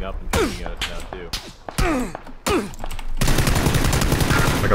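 Video game gunfire in PUBG cracks out in several sharp shots between voices talking, then gives way to a dense, continuous rattle of firing.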